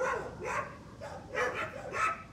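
An XL Bully dog at a shelter for difficult, rejected dogs barks three times in a fairly even rhythm, moderately close, with no talk over it.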